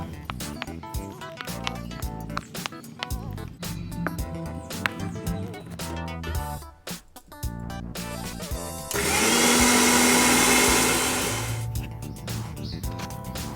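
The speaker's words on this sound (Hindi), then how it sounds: "इसे बाहर निकाल लेते हैं और मिक्सी में दरदरा पीस लेते हैं।" Background music plays, then a mixer grinder coarsely grinding spices roars loudly for a few seconds in a harsh whirring burst before cutting out.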